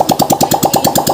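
A Vega Fi 115cc motorcycle engine runs with no exhaust pipe fitted after a semi overhaul, giving a loud, raw, rapid popping chug at a fast even beat, close up with no voices.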